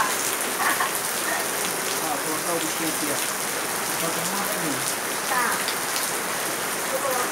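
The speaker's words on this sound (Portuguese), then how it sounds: "Agora não tem jeito, tá chovendo" Steady rain pours down in a dense, even hiss, close and constant throughout, with a voice speaking briefly underneath.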